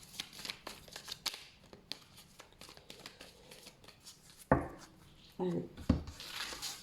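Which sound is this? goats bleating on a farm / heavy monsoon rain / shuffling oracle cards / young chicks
shuffling oracle cards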